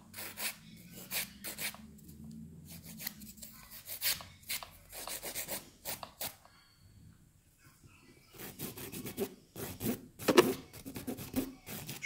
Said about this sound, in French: Et après, on fait la mise en forme. Avec la lime.